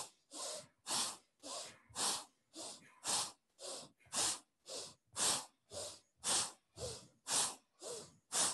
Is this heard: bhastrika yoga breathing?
yes